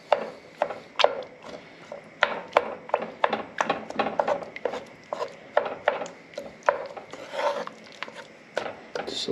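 Canned ingredients mashed in a simmering stew in a pot: a run of wet, squelchy pressing strokes in a steady irregular rhythm, close and moderately loud, with no talking.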